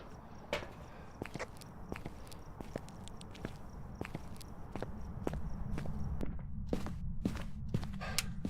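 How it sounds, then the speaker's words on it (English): Ghost footsteps in the horror game Phasmophobia thud in a steady, fairly quick series of sharp impacts, growing slightly louder and closer toward the end, with no talking. "Don't know how quick the footsteps were."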